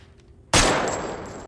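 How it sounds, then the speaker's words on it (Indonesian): A single loud gunshot from a mafia action-movie fight scene bursts in suddenly, then a bright, noisy roar rings on for about a second before cutting off abruptly. "Tyler berhasil mengalahkan Zurab dan membunuhnya dengan satu tembakan terakhir"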